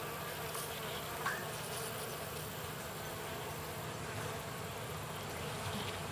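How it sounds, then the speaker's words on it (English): A dense, steady hum of many honey bees buzzing fills the air, continuous and close, with no talking. "When the new queen bees are about ready to hatch, Slade simply takes each one out"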